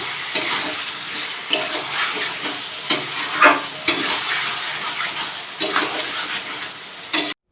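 Meat for kosha mangsho fries with spices in a pan, sizzling steadily while a utensil stirs and scrapes in irregular bursts. The sound is close and fairly loud.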